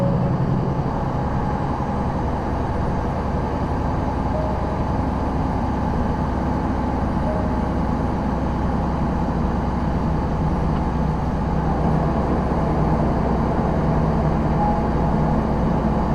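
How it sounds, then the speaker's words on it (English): Trucks labor up and down a hill in a steady, low engine drone that stays constant and moderately near throughout, with no voices. "listening to all the trucks laboring up and down"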